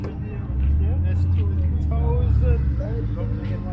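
Import cars roll around a car meet in Woodbridge, Ontario, their low engine rumble steady and close beneath people talking nearby.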